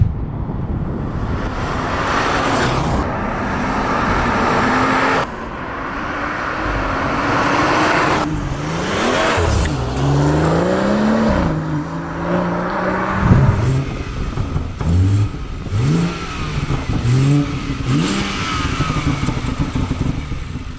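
Intake roar of a tuned BMW M140i with a big turbo accelerating hard on a dyno, rising engine pitch through repeated sweeps, loud and close with surging, fluctuating revs.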